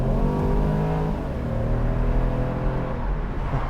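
A 2014 BMW Z4 sDrive28i M Sport accelerates hard, its 245-horsepower four-cylinder engine droning as the revs climb under sustained throttle. The sound is loud and continuous, heard from inside the car, with no talking.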